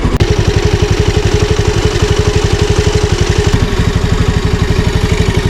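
Honda Navi small motorcycle engine idling after a cold start in freezing weather, a loud, close, steady rapid putter with even regular pulses throughout and no talk.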